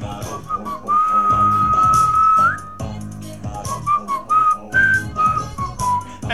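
A whistled tune rises and bends over a bouncy backing of rhythmic thumps and chords from a monster island song in the My Singing Monsters video game, bright and loud throughout.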